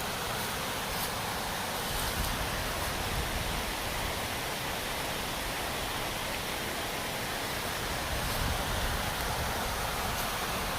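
Waterfall on a rain-swollen creek along the Sugar Notch Trail in Pennsylvania, a steady broadband rush of falling water that stays constant and fairly loud throughout, with no talk.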